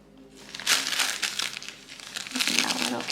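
Tissue paper from LOEWE packaging crinkles and rustles loudly and close up during an unboxing of a Spirited Away collaboration item, in continuous crackling bursts while a person talks.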